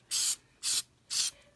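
Aerosol spray can spraying adhesive onto a Dollar Tree craft project in three even, close bursts, each a loud hiss of about a quarter second with short pauses between.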